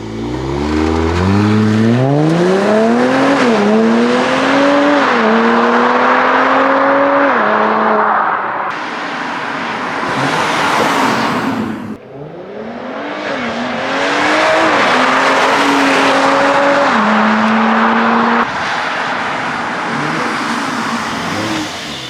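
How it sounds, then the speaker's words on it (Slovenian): A Mercedes-AMG car engine revs loudly and repeatedly, rising through sharp climbing pitch sweeps, dropping back and surging again, with a harsh aggressive exhaust note and no talking. "Dober zvok, majki mi. Prav vidite, da je AMG"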